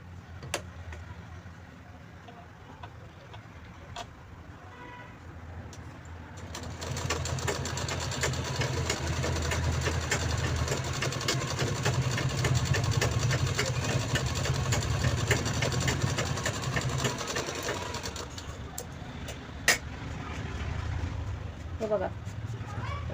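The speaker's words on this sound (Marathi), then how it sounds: "ही जी आपण शिलाई मारली हिला चैनीला अशी उलट करून इथे दाब स्टिच देऊन घ्यायची" A sewing machine stitching a zipper onto a purse runs in one sustained, fairly loud whirring burst of about eleven seconds, with quieter handling noise before and after.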